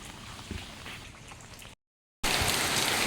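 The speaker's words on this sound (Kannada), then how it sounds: "ಮಳೆ ಮಾತ್ರ ತುಂಬ ಜೋರಾಗಿ ಬರ್ತಾ ಇದೆ" Heavy rain pours down in a steady, dense hiss that cuts out briefly, then returns noticeably louder and closer, with no voices.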